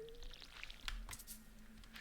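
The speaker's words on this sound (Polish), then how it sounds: "Pięknie, wszystko podlewamy." Watering crops and a tree with a watering can in the farming video game Stardew Valley, giving a soft squishy splash with brief sparkling chimes over quiet background music, no talking.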